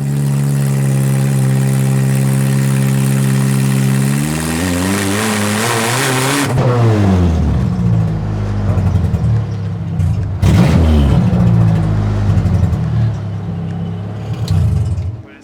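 A Toyota MR-S engine with its muffler disconnected revs loudly and alone, its raw exhaust note climbing and falling in pitch through several pulls before settling into rough, uneven revving.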